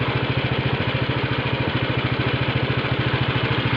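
A walk-behind tractor with a plough runs with a steady, rapid single-cylinder engine chugging, loud and close, its regular pulsing beat continuous throughout with no talking.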